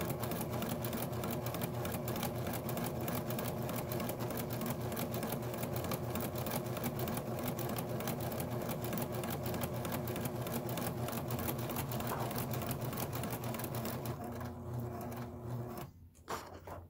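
A Pfaff 1475 CD sewing machine stitching at a steady regular speed, a fast, even mechanical clatter running continuously for about fifteen seconds before stopping with a few short knocks.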